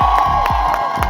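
A TV studio audience cheers and applauds loudly and densely in a burst, with rhythmic thumps running beneath the crowd noise.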